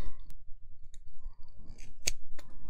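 Scissors snip through clear plastic craft ovals in a few quick, sharp close-up clicks amid quiet rustling.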